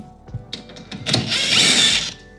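A power drill working 5/16 screws on the front of a Kenmore refrigerator: a few short taps and clicks, then a close, whining burst of motor spin lasting about a second.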